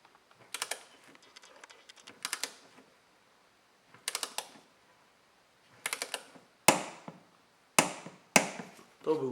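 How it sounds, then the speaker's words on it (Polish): A torque wrench clicks sharply several times as bolts on aftermarket side steps for a Dacia Duster reach their set torque, the crisp metallic snaps arriving in separate bursts, close and clear, with no talking. "To był ten klik, Że śruba jest dokręcona."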